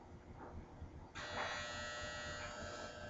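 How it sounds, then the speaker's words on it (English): A clothes dryer's finishing buzzer sounds abruptly partway through, a steady continuous electronic buzz that holds at moderate volume after quieter room noise and muffled background. "As the dryer goes off."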